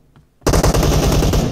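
Rapid automatic gunfire from a weapon fired from the hip in a team deathmatch video game bursts in after a short quiet lead-in, then rattles on loud and continuous with fast repeated shots.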